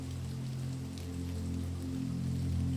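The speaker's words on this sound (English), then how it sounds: "As the rain drips down the gutter and begins to pool and form a tiny pond." Rain patters steadily on a hard surface and drips down a gutter, a soft continuous dripping wash with a low humming background, no voices.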